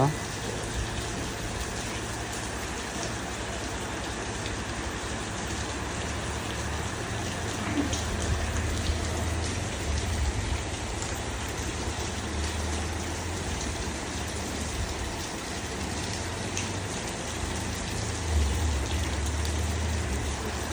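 Steady rain falls throughout at a temple in Udaipur near Agartala, a dense hiss of drops with a low rumble underneath, continuous and even.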